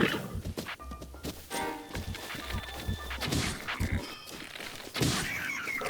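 Horse hooves clop in uneven bursts in The Legend of Zelda: Breath of the Wild, moderately close, with scattered thuds and game effects around them.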